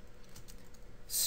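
Quick, faint keystrokes on a computer keyboard as a Java variable is typed out, a short run of soft clicks with a brighter burst at the end and no speech.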